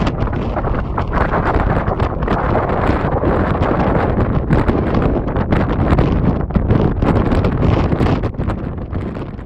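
Strong wind buffets an exposed mountain trail on the Continental Divide, a loud, constant roar of gusts battering the microphone with no letup.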